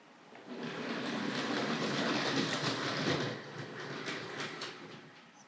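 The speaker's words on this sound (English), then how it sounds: "And if I just roll that locomotive forward now," A Hornby Dublo 2235 West Country Class model locomotive rolled along a first-radius curve of older, uneven model railway track, giving a close, steady rumbling whir of wheels on rail that swells, then eases off after a few seconds.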